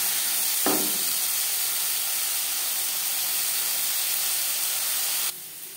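Potatoes rubbed with salt and turmeric fry in a hot pan, giving a steady, loud sizzling hiss with one brief knock near the start, and the sizzle drops in level just before the end.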